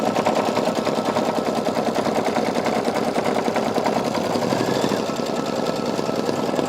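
An embroidery sewing machine running a final stitch, a rapid, even mechanical rattle of needle strikes that stays loud and close throughout, with no voices.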